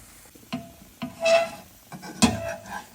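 An uttapam cooking in a pan and flipped over, with a few sparse taps and soft scrapes of the spatula against the pan over a quiet sizzle.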